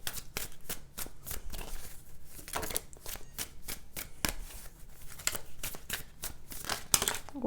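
Tarot cards are shuffled close up, with quick riffling, crisp flicks and papery slaps repeating in an uneven rhythm. No one talks over it.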